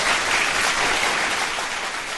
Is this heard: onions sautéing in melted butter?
no